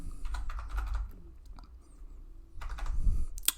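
Keystrokes on a computer keyboard typing a price into a trading order, coming in two bursts of quick, close clicking separated by a quieter pause, with a sharper tap at the very end.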